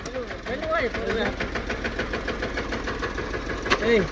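A tractor engine runs with a steady, knocking idle pulse, close by and moderately loud, while people talk over it.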